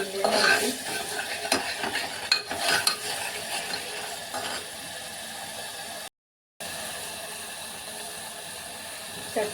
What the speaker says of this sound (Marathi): चटचटीत मस्त तेल सुटलंय मसाल्याला, एकदम छान मसाला भाजतो.